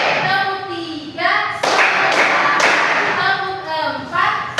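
Children in a classroom clap several times in a counted rhythm, sharp close hand claps between spells of a voice calling out the count.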